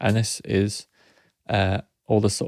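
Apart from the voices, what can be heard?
None of the usual background noises is heard.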